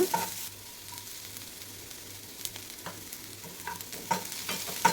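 Green chillies and onion sauté in a pan for a Kerala payar thoran, a soft, close sizzle broken by a handful of short stirring scrapes and clicks, with no voices.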